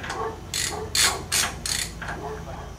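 Quick bursts of a hand ratchet clicking as a nut is snugged down on a 2003 Ford F350 Super Duty axle, four or five short close runs with pauses in between.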